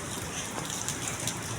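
Steady rain falls and patters on nearby surfaces in an urban spot beside buildings, a continuous close hiss with scattered drops and no voices.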